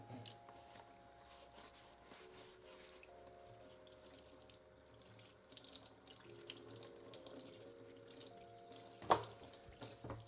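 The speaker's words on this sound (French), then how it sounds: "Je vais rincer les mains, vu qu'on a plein d'ail et de gingembre sur les mains." A kitchen tap runs into a sink as hands are rinsed after handling garlic and ginger, making a steady close hiss of water with a low hum in the background and a brief clatter near the end.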